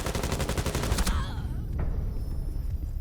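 Rapid automatic gunfire in Rainbow Six Siege during a competitive match, a fast burst of evenly spaced shots for about a second, then quieter scattered shots and game noise.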